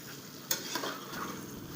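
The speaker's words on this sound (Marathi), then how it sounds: "पनीर टाकून असं चांगलं असं मिक्स करून घ्यायचं बरं का" Paneer cubes are stirred through sizzling masala in a pan, with a soft continuous fry hiss and a few sharp spoon scrapes and clinks against the metal.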